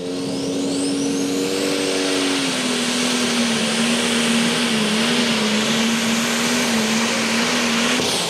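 A tractor engine roars under heavy load at a tractor pull, a loud, sustained droning growl that dips slightly in pitch partway through and holds steady to the end, with no speech.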